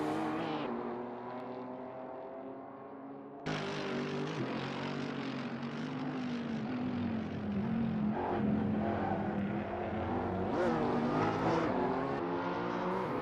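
A BMW M4 GTS on the Oulton Park circuit drones with a strong, steady engine note that rises and shifts through gear changes, holding loud and close for the whole run with no voices.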